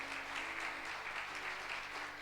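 A church congregation claps during a thanksgiving service, a brief, steady burst of many hands applauding at an even level, with a faint tonal hum running underneath.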